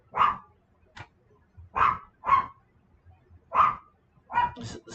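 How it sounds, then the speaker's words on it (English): A dog barks in short sharp bursts, about eight barks in uneven rhythm with gaps between, fairly close and clear against a quiet background. "This is the stupid dog."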